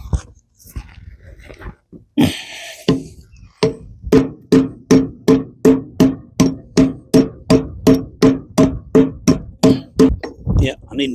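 A hammer striking repeatedly at work on logs: after brief talk and a few scattered knocks, about twenty loud, evenly spaced metallic blows ring out close by in a steady rhythm.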